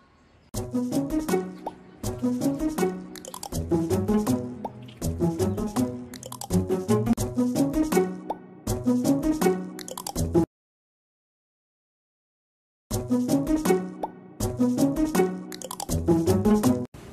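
Water poured into an ice cube tray, repeated bursts of bright plopping and gurgling fill sounds close by, stopping for a couple of seconds of silence before resuming.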